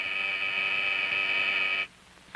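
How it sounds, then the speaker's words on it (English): A steady electric emergency call buzzer drones for nearly two seconds, then cuts off abruptly into quiet. "This buzzer starts that call."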